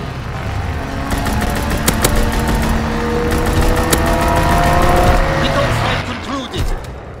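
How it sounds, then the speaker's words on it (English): In Call of Duty WWII, an aircraft strafing run roars in with a loud, sustained engine drone and rapid bursts of gunfire, with some voice chatter mixed in, before fading near the end. "Strafing run inbound."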